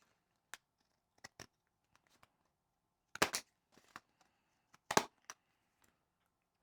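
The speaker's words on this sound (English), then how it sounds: "And then we'll just go ahead and trim off the excess here." Scissors trimming excess card paper for a handmade card, a few sharp close snips in short bursts separated by quiet pauses.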